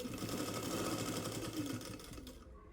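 A sewing machine stitches the folded hem of a Punjabi dress in a fast, continuous mechanical whir, close and steady, slowing and stopping just before the end.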